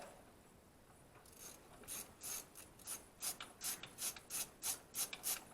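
A socket wrench ratchets on a stud while someone works on a rollback tow truck, a run of quick rasping clicks that starts hesitantly and settles into a steady rhythm of short bursts, close up with no talking.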